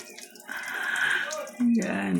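Water runs and splashes while a small dog is bathed and shampooed, a steady close wash of flowing water with brief louder splashes, under a person talking.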